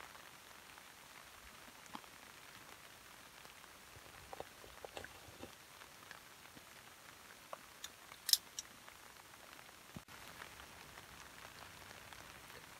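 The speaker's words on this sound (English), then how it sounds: "listen to the glorious rain" Light winter rain patters softly and steadily at a frozen lake campsite, with scattered sharper drops ticking nearby against a quiet background.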